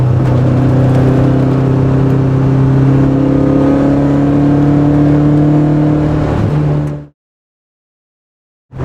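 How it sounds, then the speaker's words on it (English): A 1990 BMW M3 engine drones loud and steady under load, its pitch shifting slightly as it downshifts to third on sweeping curves, then cuts to sudden silence near the end before returning. "downshifting to third. And just running through sweepers."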